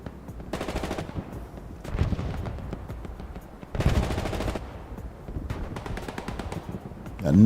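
Machine gun fire in the World War II shooter Hell Let Loose on the Hürtgen map, coming in several sustained rapid bursts separated by short gaps, fairly loud and close, with no talking.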